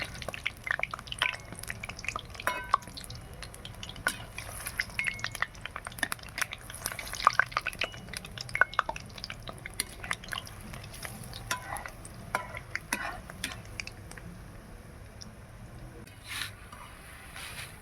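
Palm fruit fritters sizzle in hot oil with a constant crackling bubble, punctuated by frequent scraping clinks of a spatula turning them.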